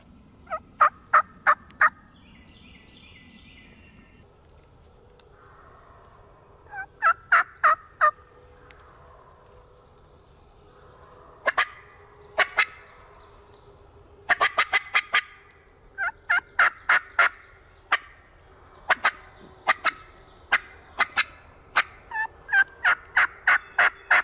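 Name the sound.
wild turkeys gobbling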